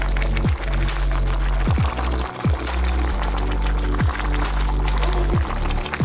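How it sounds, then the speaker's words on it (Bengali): Boiled rice, cooked about 80 percent for chicken dum biryani, drains through a strainer in a loud, gushing pour of water broken by repeated splashy surges. "চালগুলো সিদ্ধ হওয়ার পর আমি একটি স্ট্রেনার বা ছাঁকনিতে চালগুলি ছেঁকে নেব।"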